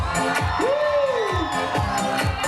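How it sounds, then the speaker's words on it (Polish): An outdoor crowd at the Wronki town festival cheers and claps, a loud, rough roar with one rising and falling whoop standing out near the start and rhythmic claps underneath. "Elena, wielkie brawa!"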